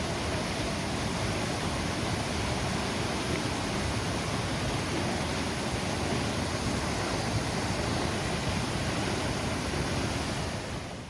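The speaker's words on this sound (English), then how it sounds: "This platform is built just above the waterfall, and the view from here is just out of the world." Plodda Falls in the Scottish Highlands, heard from a viewing platform above the waterfall: a dense, constant roar of falling water, loud and unbroken, with no voices.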